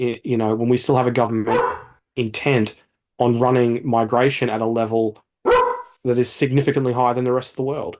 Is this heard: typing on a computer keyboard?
no